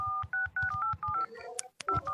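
Telephone keypad dialing tones, a quick run of about eight short, evenly spaced beeps with a brief pause near the end, loud and close with no voices.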